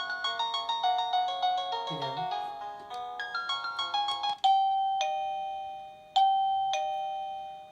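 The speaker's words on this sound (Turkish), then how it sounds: "kapı zil dediğimiz böyle olur." An electronic wireless doorbell chime (Spigen E100W) plays a quick bright melody of bell-like tones, then a few slower sustained ding notes ring out clearly.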